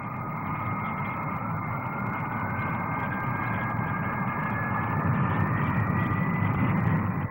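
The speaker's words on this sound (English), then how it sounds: "The English Electric P-1, a supersonic fighter." English Electric P-1 supersonic fighter passing at the 1957 Farnborough airshow, a steady distant jet roar with a rising whine that swells slightly toward the end.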